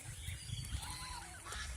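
Geese on a goose farm honk several times, faint and somewhat distant, their calls rising and falling over a low background.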